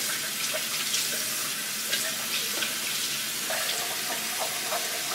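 A tap runs into a sink while a makeup beauty sponge is rinsed clean, giving a steady close gush of splashing water that lasts throughout.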